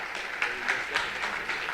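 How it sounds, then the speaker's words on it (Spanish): A short stretch of audience applause at a panel discussion as the panelists are welcomed onstage, with moderate, uneven clapping and slight swells rather than a loud ovation. "Los recibimos con un aplauso."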